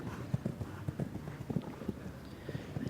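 Horse hooves clip-clop in an uneven, rapid rhythm on a show jumping course at a women's individual riding event in a modern pentathlon World Cup, distant and fairly faint over arena background noise.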